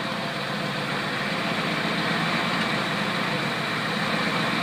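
A Predator small engine with an adjusted carburetor idles smoothly and steadily, a constant close-up drone that holds even throughout without talk.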